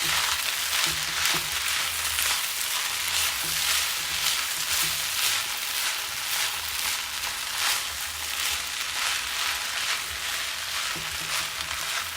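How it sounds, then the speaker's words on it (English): Bourbon chicken frying in a pan and being stirred with its sauce, heard as a constant loud sizzle with faint scraping stirring strokes throughout. "I'm going to stir this around."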